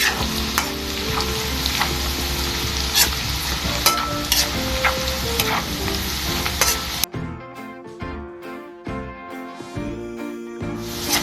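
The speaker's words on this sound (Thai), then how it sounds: "คอยคนด้วยนะคะระวังไหม ไหมแล้วมันจะขมนะคะ" Pork crackling chili paste ingredients are stirred in a hot pan. A steady loud sizzle runs for about seven seconds with spoon clinks, then gives way to sharper, sparser scraping and tapping strokes, with no talk.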